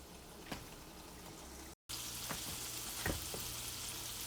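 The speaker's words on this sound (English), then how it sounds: "They've been frying up on each side for a few minutes" Beef kidney frying in a pan makes a faint, steady sizzle with a few soft pops. The sound cuts out briefly, then resumes slightly louder. No one speaks.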